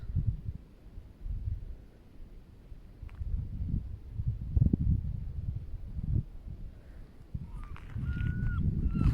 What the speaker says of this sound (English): That is actually a sea lion calling out.